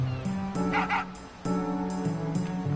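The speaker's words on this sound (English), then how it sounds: "interact with the dog, I'm sure the dog will help find it" A dog in Final Fantasy VIII barks repeatedly in clear, tonal, game-style yaps, several short barks in an uneven rhythm over steady background music, with no voices.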